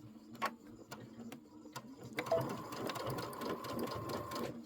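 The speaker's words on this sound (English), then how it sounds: "I'm just going to go ahead and just carefully sew here" A sewing machine stitches a casing on a Santa cinch sack, opening with a few isolated taps and then running steadily into a close, continuous mechanical whir for the second half, with no one speaking.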